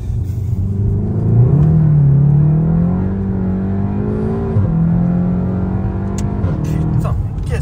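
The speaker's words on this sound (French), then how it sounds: "Tu sens que la voiture, quand même, mine de rien, c'est une routière." Inside a car cruising smoothly on an open road, the engine drones loudly and close, its pitch climbing and dropping with gear changes under a constant rumble of tyres and road noise.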